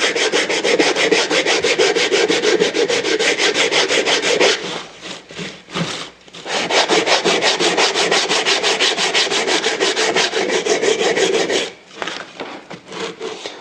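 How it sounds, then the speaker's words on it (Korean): A wooden box is sanded by hand with sandpaper in long, steady, rasping strokes, loud and close, with brief pauses where the paper is lifted and repositioned. "이런 식으로 하시면 경계선을 넘지 않고 면을 깨끗하게 사포질 할 수가 있습니다"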